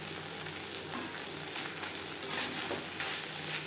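Sliced tomato dropped into flat beans (shim) frying in a pan, giving a steady close sizzle with soft stirring scrapes and a few brief bursts of crackle.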